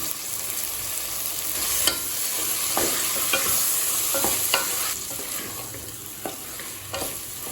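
Chili powder and tomatoes fry in a pan for chicken gravy made in a pressure cooker, giving a steady close sizzle broken by repeated scraping stirs of a spoon against the metal, with no voices.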